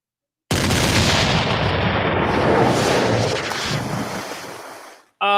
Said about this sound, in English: Somebody says fire them cannons, says David, so we shall do it.